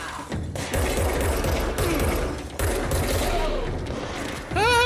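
Rapid gunfire from a shooter in the video game Control, dense volleys of shots running almost continuously at close range, with a player's excited voice breaking in over the shooting.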